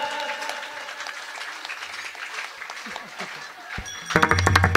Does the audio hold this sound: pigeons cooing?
no